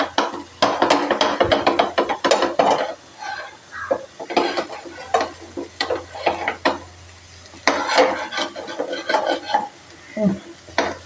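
Pulissery curry being stirred gently in a pot, heard as close, repeated clattering scrapes and knocks in uneven bursts with brief pauses, fairly loud, with faint voice-like sounds in places.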